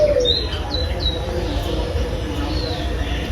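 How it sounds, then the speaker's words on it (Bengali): Pigeons at a small backyard zoo in Baruipur give soft cooing calls and a few short chirps over a steady low outdoor rumble, moderately close, with no speech. "এই দেখো এই পায়রাটা দেখো, ও ভাই সাহেব পায়রাটা দেখো"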